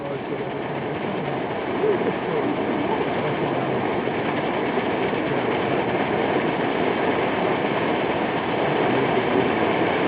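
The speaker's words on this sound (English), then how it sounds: "you can hear the classic roar burner" A steady, dense roar from an MSR Vapore Jet pressurized kerosene stove burner fills the space continuously, close and unwavering, with a faint voice underneath.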